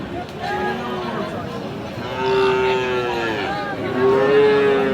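Medium-sized bulls at a livestock market in Aftabganj, Dinajpur, moo in long drawn calls, one around the middle and another near the end, over a steady murmur of crowd chatter and voices.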